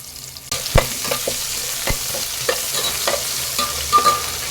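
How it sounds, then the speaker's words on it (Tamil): Sliced onions are sautéed in a pan with popped mustard seeds for okra sambar, giving a steady sizzle punctuated by repeated sharp scrapes and taps of a spoon stirring. "இப்ப வெங்காயத்தை நல்லா வதக்கிக்கலாங்க"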